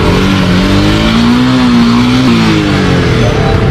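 A motorcycle engine runs steadily after its loose chain has been refitted, a continuous loud idle hum with a slight rise in pitch partway through, close by with no talk over it.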